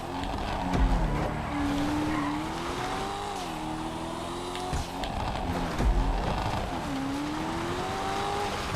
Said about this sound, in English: I'm just getting the engine howling up.